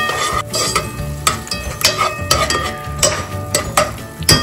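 Cumin and coriander powder frying in oil as a dal tempering, with a continuous sizzle broken by repeated sharp clinks and scrapes of a spoon stirring against the pan.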